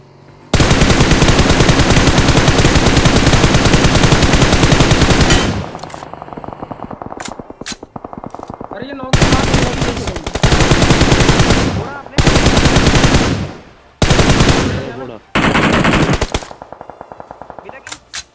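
Loud automatic gunfire in a battle royale video game, long sustained bursts followed by several shorter rattling volleys separated by brief pauses.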